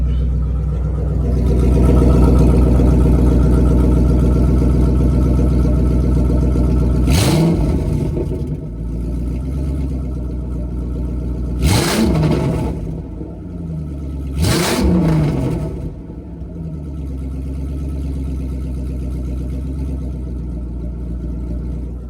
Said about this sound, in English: Let me give y'all a couple revs real quick.